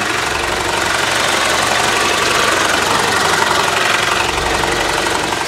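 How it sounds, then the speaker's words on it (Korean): A Hyundai Avante HD Hybrid engine idles steadily with a low, even rumble and a whirring hum, close up and uninterrupted, no voices. "시동을 걸어서 이 엔진 소리까지 제가 한번 바로 들려드리도록 할게요."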